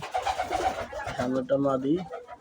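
A pair of matching male and female pigeons coo close by, several soft, throaty rolling calls following one another in quick succession.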